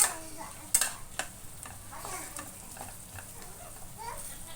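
A spatula stirs chilli powder and spices through hot oil in a pan for a village-style sambar. A sharp clack opens the sound, then softer scrapes follow over a low, steady sizzle, with no voice heard.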